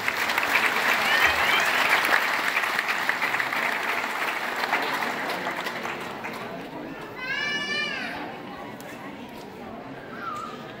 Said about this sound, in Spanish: Fuerte aplauso, por favor.